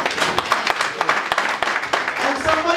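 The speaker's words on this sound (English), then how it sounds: "Are you clapping for me?" Clapping from a small audience at a child dedication and marriage blessing ceremony, with scattered uneven claps mixed with crowd murmur and voices throughout.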